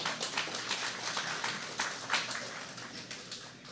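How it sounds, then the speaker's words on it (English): An audience at a foundation's annual fundraising dinner claps in a dense, steady round of applause that lasts throughout, fairly close and loud, with no talking over it. "Give her a round of applause."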